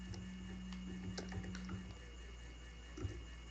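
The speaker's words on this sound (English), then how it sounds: "No, I'm sorry, I'm typing." Typing on a computer keyboard during a Super Mario Galaxy gaming session, a quick run of light clicking keystrokes over a steady low hum, with no talking.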